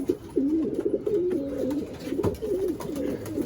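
Racing pigeons cooing in a loft, a steady stream of soft, throaty warbling coos from several birds close by, continuous with no talking.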